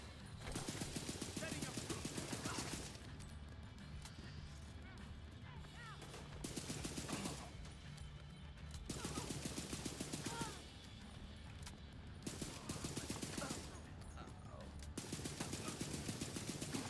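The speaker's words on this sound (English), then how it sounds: "You can sit there blind firing and just murder whole areas." ACR rifle blind firing in The Division 2 shooter game, several bursts of rapid automatic gunfire a few seconds long, separated by short pauses, over a steady game background bed.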